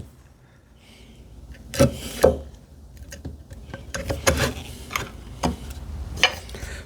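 A hand chisel pares wood on a TV unit project, making a handful of short rasping, scraping cuts of uneven strength, close by, with quiet pauses between strokes.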